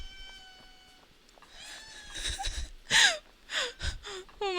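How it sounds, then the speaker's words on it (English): A house cat meows loudly and close several times in quick succession, with short breathy sounds between the calls, over faint background tones. "that is some loud meowing you got there"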